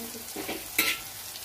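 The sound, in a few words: frying and stirring in hot oil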